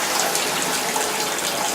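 Hot water runs steadily from a household tap or shower, a close, constant hissing gush with no change in flow and no voices.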